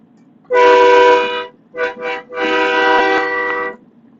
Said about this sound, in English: this one has a different horn on it, whereas I had a valve for my train horn, and a train horn and a valve was added to this one